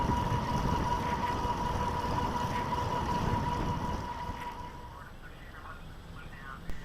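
Lectric XP e-bike held at full throttle on cruise control in pedal-assist level 3, with a steady whine from the electric motor over heavy rushing wind that eases and thins near the end.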